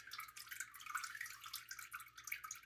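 Brine drips and trickles off a wild turkey breast that has been soaking for days, a faint, continuous wet patter of small drops heard close up and alone.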